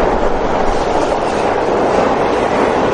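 An Adana metro train runs on its rails with a loud, continuous rumble and rolling rattle that holds steady throughout, with no voices.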